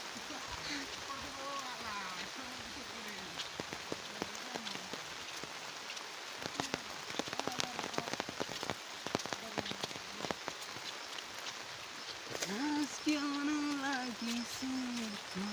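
Rain falling at night in Bhutan patters steadily on a surface with scattered sharper drips, while a voice sings and talks intermittently over it.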